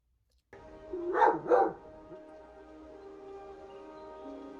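A dog barks twice in quick succession, close and fairly loud, over a steady humming background tone that continues after the barks.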